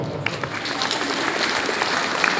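Students in a school gathering applaud a school topper, a steady wash of many hands clapping at moderate loudness that holds for a couple of seconds.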